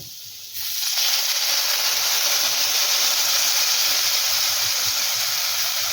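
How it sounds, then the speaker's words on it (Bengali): Water is poured onto potatoes fried red in a pan for aloo posto, bursting into a loud, sustained hiss and sizzle after a brief quieter start, close by and steady to the end. "আলু বেশ লাল লাল করে ভেজে নিয়েছি এবার দেব পরিমাণ অনুযায়ী জল"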